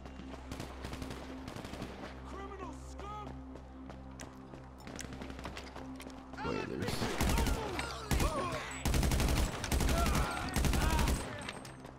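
Rapid automatic shotgun blasts in GTA V, a game firefight: dense bursts of gunfire in the second half, loud and close, following quieter game ambience.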